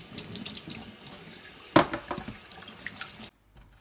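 Potatoes are washed under a running kitchen tap, a steady close splash and trickle of water with a sharp louder gush partway through, then the flow cuts off abruptly near the end.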